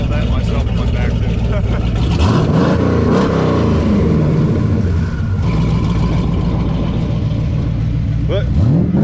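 Exhaust of a twin-turbo Fox Body Mustang venting through wireless QTP exhaust dumps, a loud, continuous engine roar with rising revs, heard up close while people talk over it.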